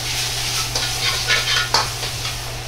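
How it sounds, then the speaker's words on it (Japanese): Onions stir-fried with a little sugar in a pan to caramelize them for butter chicken curry: a loud, steady sizzle with bursts of scraping and stirring, and no voices. "玉ねぎの甘みを早く引き出すために砂糖を少量入れ炒めていきます。"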